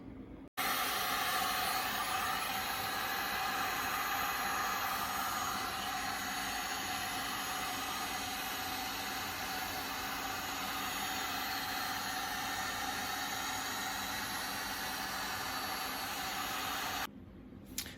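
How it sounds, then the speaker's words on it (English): A heat gun blows on stainless steel motorcycle exhaust pipes in a loud, steady airy roar. It switches on at the start, holds for about sixteen seconds and then cuts off, with no talking. "the heat gun did absolutely nothing"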